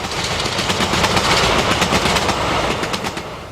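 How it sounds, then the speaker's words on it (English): Pair of British Rail Class 156 diesel multiple units running for ScotRail on the West Highland line toward Fort William, a loud, steady diesel roar with rapid rhythmic wheel clatter on the rails, close and continuous. "This pair are heading for Fort William at County March in September 2009."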